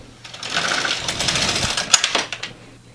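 A Brother LK150 knitting machine carriage is pushed across to knit a single row, giving a loud, dense mechanical clatter and rattle that builds, holds for about two seconds with a few sharp clicks, then fades out, with no talking.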